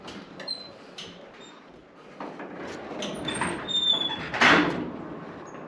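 Old metal sliding doors at a preserved 1926 mine tramway building, the Belmont Mill, scrape and squeal in several rattling, squeaky pushes, with a louder grinding screech near the end.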